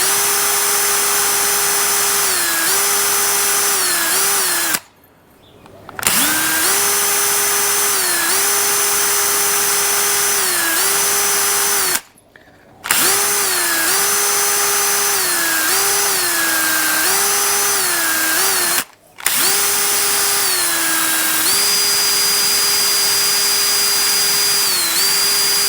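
A power drill spins a wire brush to clean Vespa GTS250ie parts such as a washer. It gives a loud, sustained whirring grind that pitch-shifts slightly as the load changes and stops briefly three times.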